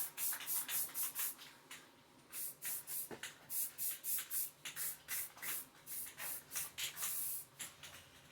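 Short bursts of spray painting hiss out one after another inside a spray booth in quick irregular pulses, close and fairly loud, with brief pauses between.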